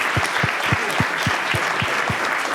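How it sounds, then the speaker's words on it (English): A conference audience gives steady applause for a panel after a discussion on voice design, with continuous close clapping and a few heavier, evenly spaced claps standing out. "a round of applause for our panel"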